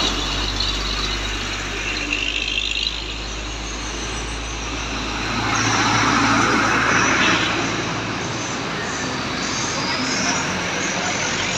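An Armada Indah bus passes at night on a road through Tanjung Pura, its engine and tyre roar swelling as it nears and then fading amid steady traffic rumble.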